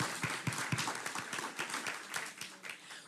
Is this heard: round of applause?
yes